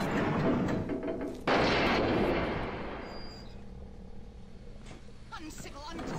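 Gunfire in the shooter game BioShock Remastered, with loud booming shots and explosions that fade into a rumbling tail and a few fainter shots, while speech is mixed in.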